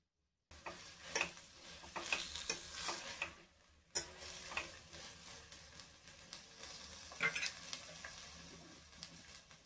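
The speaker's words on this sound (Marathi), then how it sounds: "या उकळून मिरच्या घेतल्या आहेत त्या आपण या मसाल्यामध्ये चांगल्या फ्राय करून घेऊया" Boiled green chillies fry in a spiced masala as a spoon stirs them, giving soft scraping strokes over a quiet, steady sizzle with occasional light ticks.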